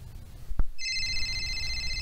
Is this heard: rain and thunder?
no